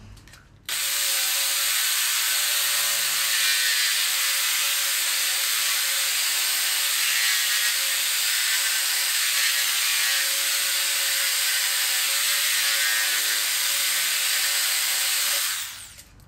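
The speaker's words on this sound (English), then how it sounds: "I'm going to saw this end off first and then measure up, cut the other end off." Steady, loud power-tool whine runs nonstop for about fifteen seconds while the end is cut off a piece of recycled pallet hardwood, starting and stopping abruptly with no talk.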